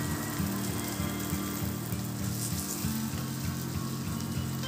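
Ground turmeric, chili, cumin and coriander sizzle and fry in oil for a panch phoron rui fish curry, a steady close crackling hiss with a faint rhythmic mechanical hum underneath.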